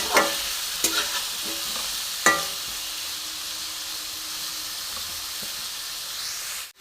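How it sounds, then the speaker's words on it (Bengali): Potatoes seasoned with turmeric and salt fry lightly in a pan with a steady close sizzle, a few spoon scrapes early on, then a continuous hiss until it cuts off. "এবার আলুটা আমি একটুখানি হালকা করে ভেজে নেব"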